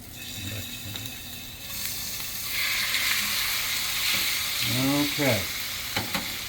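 Shrimp halves sizzling and popping in garlic cheese butter in a pan, a steady loud frying hiss with scraping as a spatula stirs, and a brief spoken word near the end.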